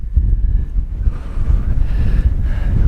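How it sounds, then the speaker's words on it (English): Strong wind gusting and buffeting the microphone on an open hilltop at Kinder Scout in the Peak District, a steady low roar with surging gusts throughout and no voices. "It's quite windy, the wind's picked up"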